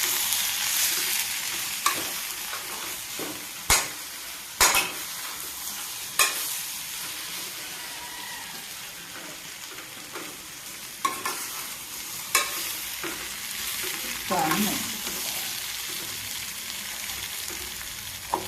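Raw banana fry with green chilli and ginger cooking in a pan, a quiet continuous sizzle with occasional sharp clicks of a spatula against the pan spaced a second or more apart, close and alone.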